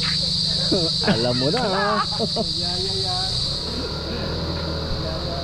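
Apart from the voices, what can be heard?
crickets chirping in daytime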